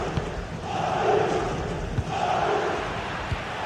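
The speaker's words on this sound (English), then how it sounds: "Well, just listen to the crowd." Football video game crowd in a stadium roaring steadily through a tense corner chance, with two swelling waves of cheering and a few sharp thuds over continuous loud noise.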